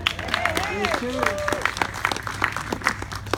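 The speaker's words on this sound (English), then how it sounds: "So congratulations, let's clap for that" Family and guests at a graduation gathering clap to congratulate a newly engaged couple; scattered handclaps sound fairly close while voices talk and exclaim over them early on.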